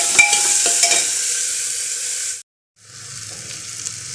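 Chopped green chillies fry in hot oil with a loud, steady, close sizzle and faint stirring. The sizzle cuts out for a moment, then resumes more softly.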